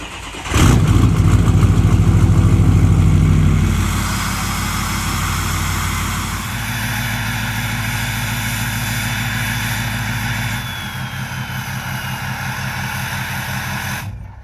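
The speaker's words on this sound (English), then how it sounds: "let's go ahead and start with a nice little, I think it's like 45 degrees, cold start" A 6.0 truck engine cold starts at about 45 degrees: a loud crank and catch, a high rough rev for a few seconds, then settling into a steady, lumpy idle that drops slightly lower near the end.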